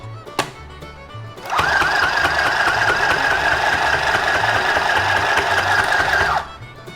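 A sewing machine runs in one steady, close, continuous burst of about five seconds, stitching the inner liner of a three-layer washable cloth face mask, after a few faint clicks.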